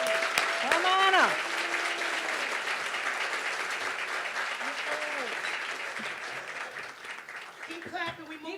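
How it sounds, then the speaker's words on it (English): An awards ceremony audience claps steadily at moderate volume while tones and sweeping music cues play over it and voices call out briefly near the start and end. "Keep clapping, we moving slow."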